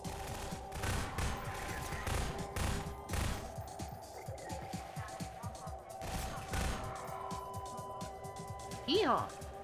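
Repeated gunfire from a new weapon in the video game Half-Life 2, a steady run of sharp shots over a busy game soundscape, with speech present throughout.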